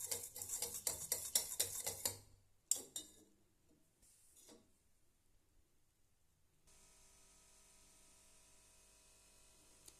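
A spoon scrapes and clinks rhythmically around a pot of urad dal porridge for a couple of seconds, then the stirring drops to soft, sparse knocks over a quiet hiss.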